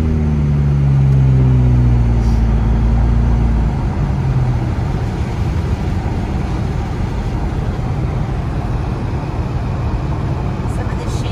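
A vehicle rolls by on a snowy Big Bear mountain road near Onyx Summit, its engine drone loud and near for a few seconds, then giving way to a steady rushing roar of tires and wind.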